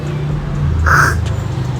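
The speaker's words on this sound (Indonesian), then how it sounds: "cuman lu seruput kenceng gitu" One short, loud slurp of coffee, a quick airy sucking burst, rising out of quiet background noise.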